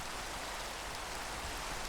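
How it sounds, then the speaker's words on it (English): Rain falls steadily in a video game, a dense, even hiss of drops on surfaces that holds constant and fairly loud with no talking. "And it's raining."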